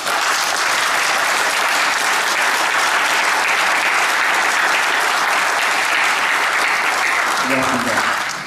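Sustained audience applause welcoming guests at a Korean joint memorial ceremony for patriots and fallen heroes, dense and steady throughout, with a brief voice near the end.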